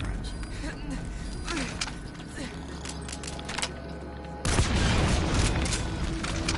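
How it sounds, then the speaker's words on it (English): A deep boom and a burst of gunfire in the stealth game Metal Gear Solid V: The Phantom Pain, thudding loud and close over in-game ambience after a quieter stretch, with a voice talking at times. "So he's gonna go investigate the explosion."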